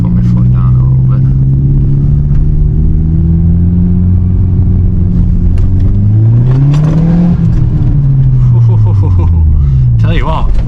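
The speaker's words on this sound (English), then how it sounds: "hopefully you might be able to hear the wastegate up here. Just put my foot down a little bit." Audi TT accelerating with the turbo wastegate audible, a steady engine drone rising in pitch as the car gathers speed, heard from inside the cabin, loud and continuous.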